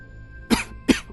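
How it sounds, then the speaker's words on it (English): Two short, sharp coughs from a woman, close and fairly loud, spaced about a third of a second apart over a faint steady hum. "She began to cough as she looked into the mirror."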